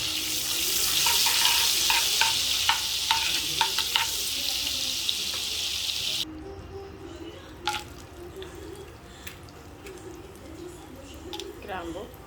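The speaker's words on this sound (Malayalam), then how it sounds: "ഉള്ളിയും തക്കാളിയൊക്കെ വഴറ്റാനായിട്ട് കുറച്ച് ബട്ടർ കൂടി ഇട്ട് കൊടുക്കാം" Onions and tomatoes sautéing in butter and oil for butter chicken, a loud steady sizzle with stirring clatter for the first half, then the frying drops to a quieter simmer with occasional scrapes.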